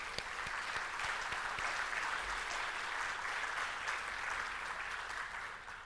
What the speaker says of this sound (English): I ask for applause for Moldova.